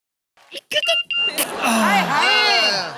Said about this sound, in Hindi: फिर से नोटिफिकेशन आया